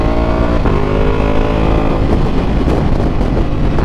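A Ducati Multistrada V4S motorcycle engine of 117 horsepower revs loud and close in a continuous, throaty roar that holds steady for several seconds, with no talking.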